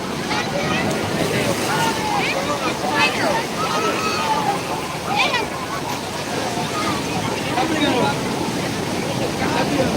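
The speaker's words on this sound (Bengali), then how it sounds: "বিশাল বড় বড় ঢেউ আবারও দেখতে পাওয়া যাচ্ছে" Big waves on a rough sea at Old Digha beach under dark cloud crash and surge steadily, with roaring wash and wind noise buffeting the microphone, loud and close, while faint voices call out.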